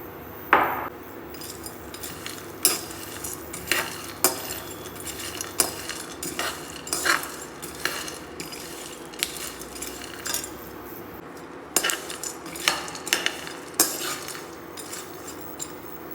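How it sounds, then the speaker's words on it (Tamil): Dry nuts roasting in a pan for a children's makhana-and-nut health powder, stirred with a metal spoon that gives repeated clinks and scrapes against the pan at an irregular pace, close and fairly loud. "இப்போ ட்ரை நட்ஸ் எல்லாம் சேர்த்து வறுக்கலாம்"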